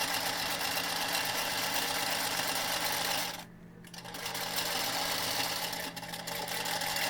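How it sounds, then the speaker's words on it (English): A vintage Singer Featherweight sewing machine runs a test stitch, a close, steady mechanical whir that dips briefly in the middle before resuming at full speed. "Now with the machine threaded and running, it's finally time for a test."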